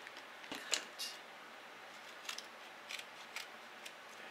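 Scissors snip through duct tape during a DIY wallet and phone case build, a few quiet crisp cuts with short pauses between them, close by and soft, with no one talking.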